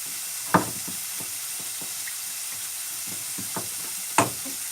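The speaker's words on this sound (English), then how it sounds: "Give that a good mix" A spoon stirs a frying, sizzling mixture in a pan for yogurt soup with meatballs, with a steady soft hiss and a few scraping knocks, two louder clatters standing out.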